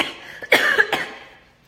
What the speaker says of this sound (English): every time I try to take a deep breath, I cough